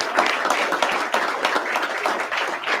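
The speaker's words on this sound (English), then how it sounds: "Can we give a round of applause for our hosts, Dayla and Rachel?" Audience applause at a panel event, a steady wash of many hands clapping for a few seconds with no talk over it.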